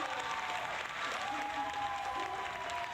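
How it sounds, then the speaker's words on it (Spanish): Steady applause from a crowd, a continuous wash of clapping at even loudness throughout, with faint voices mixed in. "entraron los aplausos por esa frase"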